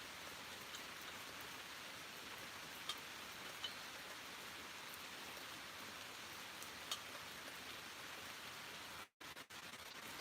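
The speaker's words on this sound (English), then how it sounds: "I hear the rain a-comin'" Steady rain falls with a constant soft hiss, a few distinct drops pattering nearby, and a brief dip near the end.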